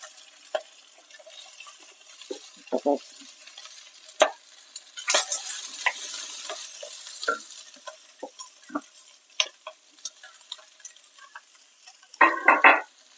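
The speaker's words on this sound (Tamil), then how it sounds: "இப்போ நம்ம கட் பண்ண காயெல்லாம் போட்டுக்கலாம் அதில் ரொம்ப வதக்க வேண்டாம்" Cut beans and carrot sauté in oil in a pan, with a faint, sparse sizzle broken by scattered clicks and scrapes of stirring, louder near the end, and nobody talking.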